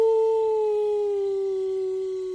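A single drawn-out howl, smooth and slowly falling in pitch, sounds like a voice imitating a dog howling.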